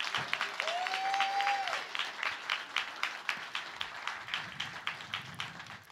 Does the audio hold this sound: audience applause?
yes